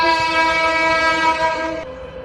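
A train horn in a Bangladeshi train video game blares as a loud, sustained tone over the rumble of the running train, then cuts to a softer, thinner drone near the end.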